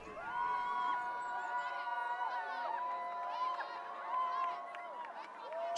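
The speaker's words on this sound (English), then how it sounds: "Cheers erupted from the crowd" A crowd cheers at a town festival, a lively swell of many voices, whoops and shouts rising and falling together, fairly close and continuous throughout.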